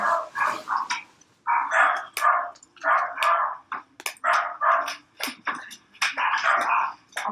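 A small dog barks repeatedly in quick bursts of sharp yaps, close and fairly loud, with short pauses between volleys.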